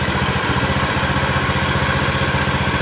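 A steady mechanical drone from a small idling Honda Beat injection scooter engine, with a rough, grinding friction rattle from its automatic transmission running continuously underneath, close and loud throughout.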